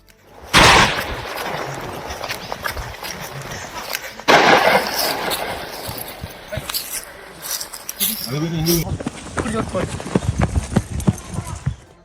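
Firecrackers burst to drive off wild elephants, giving two sharp, loud bangs a few seconds apart, with scattered clatter and commotion. A news narrator talks over them throughout.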